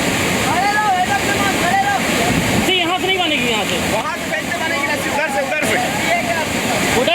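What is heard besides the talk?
roaring flood water with strong waves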